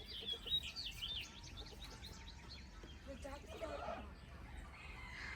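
Chickens cluck and call softly in the distance, with birds chirping and a faint outdoor hum underneath.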